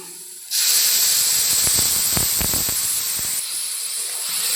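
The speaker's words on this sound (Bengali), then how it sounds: "এখন আমি যে মশলাটা করে রাখলাম পেঁয়াজ রসুন আর পোস্ত দানা আর সরিষে দিয়ে দেবো দিয়ে দিচ্ছি" Paste of onion, garlic, poppy seeds and mustard hits hot oil with fried jackfruit seeds, bursting into a sudden loud, sustained hiss that settles slightly and carries a few spoon scrapes, no talking.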